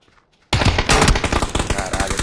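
M24 rifle fire in an online shooter game: a sudden loud burst of sharp, rapid cracks that cuts in after a near-silent start and keeps going.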